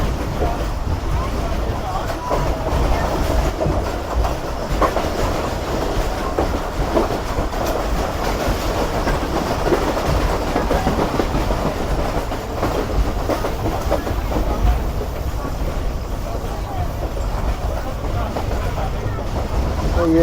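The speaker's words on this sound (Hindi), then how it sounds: "ये स्किप कर दिया ट्रेन ने टर्की रेलवे स्टेशन।" The Islamabad Express runs at speed through the Turki railway station area without stopping, a loud, steady rumble with rhythmic wheel clatter filling the whole stretch.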